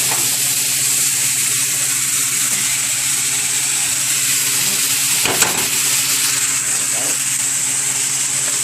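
Ground beef fries with added carrots and peas in a hot pan, giving a steady, close sizzle and hiss throughout with a brief clatter midway.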